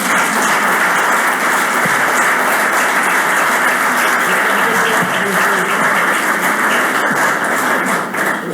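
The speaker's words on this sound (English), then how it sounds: "When you get such a good applause, don't continue talking." Loud, sustained applause from a conference audience after a speaker on Western Balkans and EU relations, a thick continuous wash of hand claps close by with faint voices mixed in.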